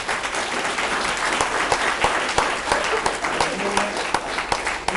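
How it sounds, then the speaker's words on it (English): Audience applauding candidates at a candidates night, steady dense clapping throughout with a few louder individual claps standing out and faint voices mixed underneath. "So I'd like to give them an applause"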